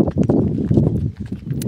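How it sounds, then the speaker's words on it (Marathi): A horse runs with fast, rhythmic clip-clopping hoofbeats, close and fairly loud, in a brief burst with a faint voice in the background. "कसा पळतोय घोडा, सुट्टीच नाही हो. नीसता टाकडाक टाकडाक कसा राडा."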